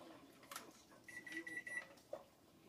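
A kitchen timer goes off during pressure canning of meat on a stovetop, a faint series of short electronic beeps in quick succession over soft background noise and light handling sounds.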